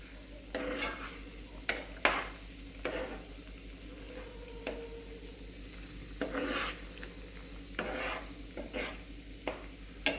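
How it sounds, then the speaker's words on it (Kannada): Kaju masala curry with melted butter being stirred in a pan, repeated scraping strokes of a spoon against metal over a faint low hiss, in irregular bursts. "ನೋಡ್ರಿ ಮಿಕ್ಸ್ ಮಾಡ್ಕೊಳಕತ್ತೀನಿ ಸ್ವಲ್ಪ"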